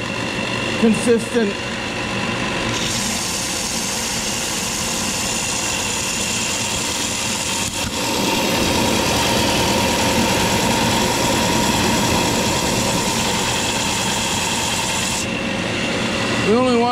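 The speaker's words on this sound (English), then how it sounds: "I decided to use my big sander here" A big powered sander shapes a bison horn knife handle, giving a continuous abrasive whir and grind that breaks off briefly near the middle and stops near the end. Someone talks over the sanding.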